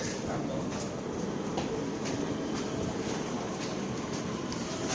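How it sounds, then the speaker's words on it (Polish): A Barcelona metro train rumbles steadily nearby at a station, with rolling wheel noise and faint rhythmic clicks from the rails throughout. "jestem już na stacji, gdzie odjeżdża właśnie metro"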